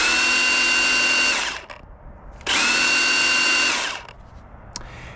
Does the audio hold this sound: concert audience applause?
no